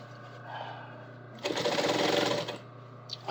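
A sewing machine runs in one steady, loud burst for about a second while stitching the long inseam of a pair of trousers, with quieter handling noise before and after.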